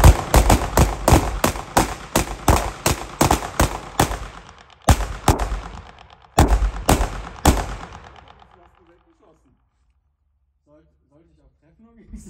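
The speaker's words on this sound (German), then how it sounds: "Wir schießen jetzt einfach hintereinander weg." Rapid shots fired one after another at a target in a father-and-son shooting duel, a string of about a dozen loud, sharp bangs at close range, the last few more spaced out before falling silent.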